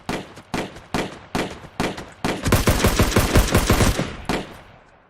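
Gunfire in the video game Ring of Elysium: six spaced single shots, then a fast automatic burst lasting about a second and a half before fading. Loud and close, with no voices.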